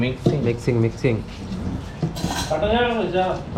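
Metal utensils clinking and scraping against dishes while food is mixed in a kitchen, a few sharp clinks early on, then voices talking over the clatter.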